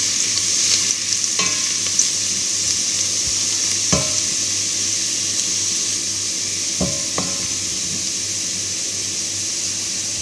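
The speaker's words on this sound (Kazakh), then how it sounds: "сарымсағымызды қуырып аламыз. Сарғайғанша одан кейін етімізді саламыз." Garlic frying in a pan, a steady sizzle under a low hum, punctuated by a few sharp clinks and scrapes of a utensil at irregular intervals.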